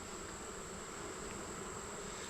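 Honey bees hum around an open hive during an August inspection, a faint, steady drone with a high whining buzz held throughout the short moment.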